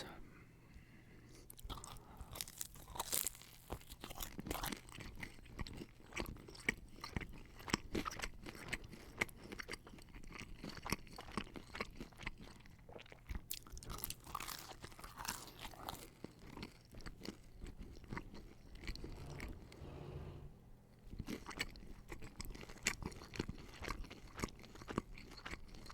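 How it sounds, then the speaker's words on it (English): Crunching and chewing of a Papa John's cheese bread corner piece, with close, crisp bites and repeated chewing crackles throughout, no talking. "This one over here's got a lot of crunch."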